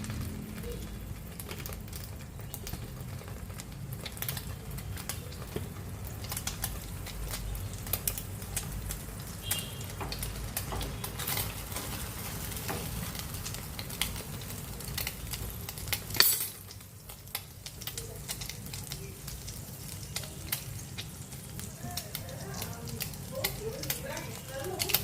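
Slices of bread dipped in milk and egg fry in hot ghee over medium heat, a steady close sizzle with crackling pops throughout and occasional scraping.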